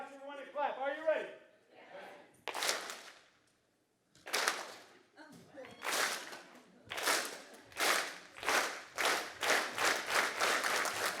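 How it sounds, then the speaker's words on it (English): A conference audience at Talent Connect claps in sharp unison bursts, about a dozen loud claps at an irregular then steadier rhythm, with a presenter's voice at the start. "When my hands cross, you're going to clap."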